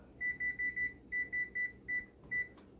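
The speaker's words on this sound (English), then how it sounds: "Timer." Oven timer beeping while Parmesan-crusted Brussels sprouts roast, a quick series of about nine bright, evenly spaced electronic beeps in short bursts, clear and alone over a quiet kitchen background.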